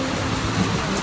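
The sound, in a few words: heavy rain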